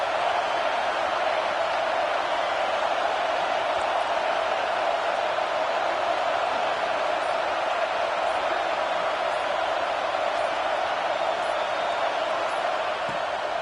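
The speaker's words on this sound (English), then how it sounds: "Here comes this home crowd as the defense tries to get off the field on 3rd down" Home crowd at an NCAA football game on a third down: a steady, moderately distant roar of massed cheering that holds at an even level throughout, with no speech over it.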